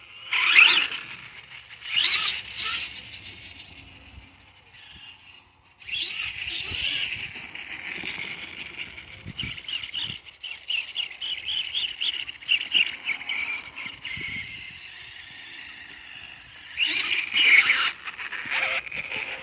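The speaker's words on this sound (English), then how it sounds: "the first test drive of my t-maxx brushless conversion on 2S" A Traxxas T-Maxx RC truck with a brushless electric conversion on a 2S battery drives about, its motor whining in high-pitched bursts that rise and fade as it accelerates, near then farther off, with no talking.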